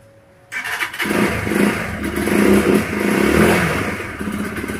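A Euro Daanhari 186 motorcycle engine fires up after about half a second and settles into a loud, close, slightly clattery idle with small revving swells, with no voices over it.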